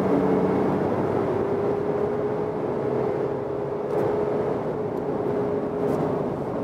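A Mercedes G-Class G350d diesel accelerating from 100 to 130 km/h on the motorway, heard as a steady, loud cabin drone of engine and road noise with a faint rising tone, no talking.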